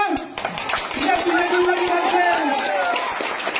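An audience at a Bengali political rally breaks into a burst of crisp, rapid clapping that holds steady for a few seconds, while a speaker keeps talking through a microphone over it.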